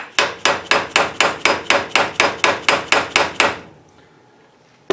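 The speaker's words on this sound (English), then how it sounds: "I'm just going to use the brass end of this dead blow" A brass-faced dead blow hammer strikes a Mustang door hinge about a dozen times in a steady, even rhythm, each hit a sharp, loud metallic knock, before the blows stop and only faint room noise is left.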